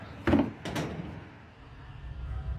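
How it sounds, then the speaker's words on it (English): Several heavy knocks on a door inside a house, echoing through the rooms, loud and forceful in two close bursts and then dropping into a low rumble with no voices. "The knocking begins again, louder and more aggressive this time, echoing through the house"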